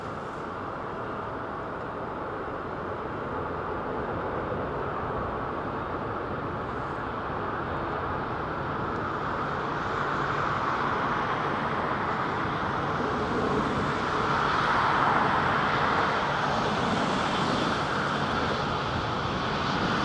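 A Rolls-Royce powered Boeing 777-200 lands at London Heathrow, its engines a broad, steady roar that swells gradually as it nears.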